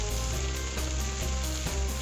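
Chopped carrots, beans and other vegetables sauté in a pan with a loud, dense, unbroken sizzle, steady and close from start to finish, with no talking over it.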